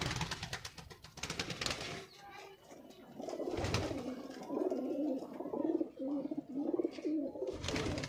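High-flying pigeons in a cage in Attock, Punjab, coo in low, rolling, repeated calls close by, broken up by bursts of rustling and flapping.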